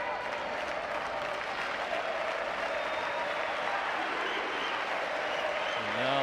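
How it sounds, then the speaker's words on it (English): A crowd applauds steadily and loudly at a wheelchair tennis match at the Rio 2016 Paralympic Games, a continuous wash of clapping that swells near the end as a commentator begins speaking. "And now the crowd really getting behind Rodriguez"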